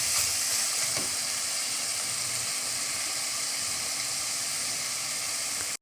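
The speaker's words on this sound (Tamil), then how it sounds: "தக்காளி பழம் எல்லாம் நல்லா வேகணும். ஒரு 2லேருந்து 3 நிமிஷம் வதக்குங்க." Onions and tomatoes sauté in a pan for mushroom biryani, giving a loud, even, hissing sizzle that carries on unbroken and close up.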